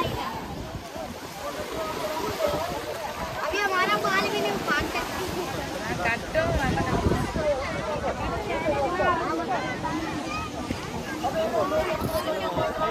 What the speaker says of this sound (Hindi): यहाँ पे लहरें देखो कितनी सारी आ रही है